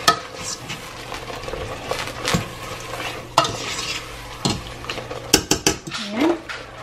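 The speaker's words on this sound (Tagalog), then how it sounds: "I'll mix it all together." A utensil stirs alfredo sauce in a pan, with scraping, soft sizzling and intermittent clinks of metal against the pan, close and without talking.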